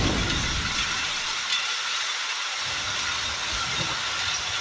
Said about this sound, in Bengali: তো আমরা ট্রেনে চেপে পড়েছি